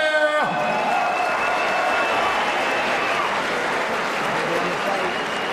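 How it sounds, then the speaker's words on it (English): At a Titan Fighting Championship MMA event, the arena crowd applauds and cheers in a loud, continuous wash of noise, with an announcer's voice fading out at the very start. "a big hand of applause for all fights tonight"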